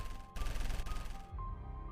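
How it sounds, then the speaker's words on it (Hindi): Rapid machine gun fire from a helicopter-mounted gun, a dense, continuous rattling burst with a brief break, loud and noisy over a steady background rumble, with no voices. "चॉपर मशीन गन घूमने लगी। एक बार में 100 गोलियां कुशान पर दाग दी"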